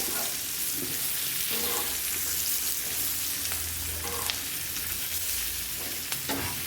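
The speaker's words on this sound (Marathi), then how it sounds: "त्याला फ्राय करून मऊ होतात मिरच्या" Green chillies sizzle on a hot griddle, a dense continuous crackle close by with a few soft stirring scrapes and no talk.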